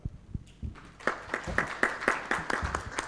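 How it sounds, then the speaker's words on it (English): Audience clapping after welcome remarks at an official event broadcast by EPRN Rwanda: a series of distinct, evenly spaced claps, sparse at first and then settling into a steady rhythm, moderately close. "think we can give a big clap"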